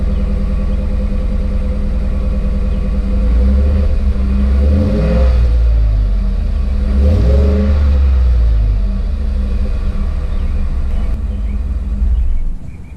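A Ford F150 engine with a suspected coolant leak or head gasket fault runs steadily nearby, a deep continuous rumble that swells slightly twice without any talking.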